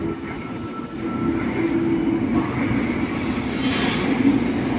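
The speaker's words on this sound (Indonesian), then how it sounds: "Tokyo Metro 6034 berangkat menuju Bogor." A Tokyo Metro 6034 series KRL commuter train rumbles out of a station toward Bogor, Indonesia, with a low, steady roar of wheels on track and faint squeals rising and falling.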